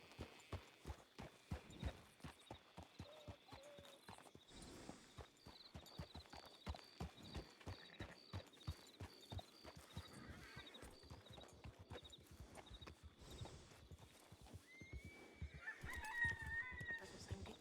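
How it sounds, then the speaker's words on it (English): Horse hooves clip-clop steadily and close in a RedM game scene, with occasional whinnies and faint fowl calls behind, the rhythmic strikes continuing for the whole stretch. "I hear a horse moving."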